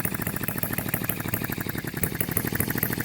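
A small HM-01 model engine runs steadily up close, its rapid, even mechanical chatter and hum holding a constant pace with no voices over it.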